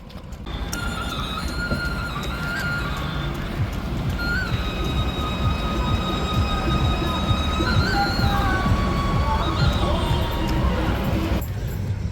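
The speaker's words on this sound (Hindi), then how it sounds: "नोएडा की लाइफलाइन मेट्रो चल दी अपने गंतव्य स्थान की तरफ" A Noida metro train pulls away with a steady loud rumble and rising electric motor whine, heard up close and continuous throughout.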